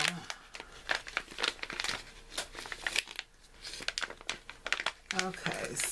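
A plastic Ziploc-style bag holding makeup brushes crinkles and rustles in quick irregular bursts close by, with a person talking over it.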